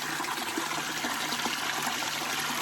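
Cold water trickles and splashes steadily nearby at a hot spring, a constant bright wash of flowing sound with no talking.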